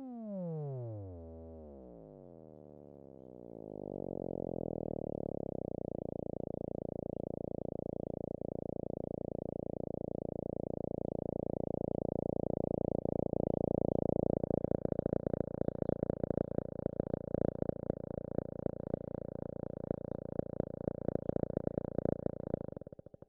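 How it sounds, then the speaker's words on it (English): An MFOS Noise Toaster analog synthesizer plays its oscillators at low frequency: a falling sweep settles into a steady buzzing drone, then turns into a rapid pulsing, clicking throb that grows louder toward the end. "I particularly like using the oscillators at low frequency."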